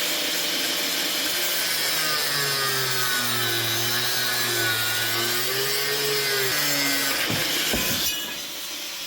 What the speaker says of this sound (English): Sometimes the angle grinder will want to catch, and it can really kind of mess up your grip.